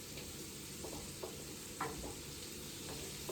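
Shrimp frying quietly in a pan, a soft continuous sizzle with a few faint scrapes and taps as the pieces are turned, close but low in level.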